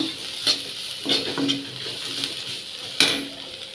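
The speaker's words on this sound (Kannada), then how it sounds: "ಗಸಗಸೆ ಆ್ಯಡ್ ಮಾಡ್ಕೊಳ್ಳಿ ಸ್ವಲ್ಪ ಗೋಲ್ಡನ್ ಕಲರ್ ಬರುವ ಹಾಗೆ ಫ್ರೈ ಮಾಡ್ಕೋಬೇಕು" Poppy seeds frying in a pan toward golden, a soft continuous sizzle broken by several sharp scrapes and taps of a spoon stirring against the metal pan.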